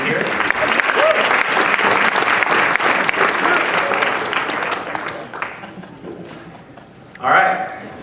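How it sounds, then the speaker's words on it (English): Audience applause at a college debate club presentation, a sustained dense clapping from a sizable crowd that fades out after about six seconds, followed by a brief rustle near the end. "Let's give them a round of applause and thank them for being here."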